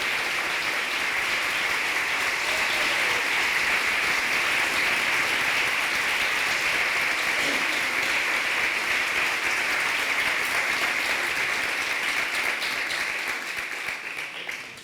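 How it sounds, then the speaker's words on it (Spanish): An audience at a book presentation gives sustained applause, dense and even clapping that fills the room for about fifteen seconds before tapering off at the end. "para quien pido un fuerte aplauso"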